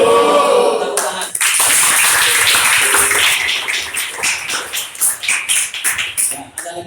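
Classroom clapping from a group of students at school, a dense burst of hand claps starting abruptly and running for several seconds before thinning into scattered claps, with some voices mixed in.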